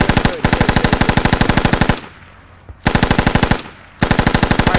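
Gunfire in the tactical shooter Squad: loud, close, rapid automatic bursts, each a long even string of sharp shots, broken by short quiet pauses before the firing resumes.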